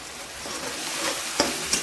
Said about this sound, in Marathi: थोडा वेळ परतायचं।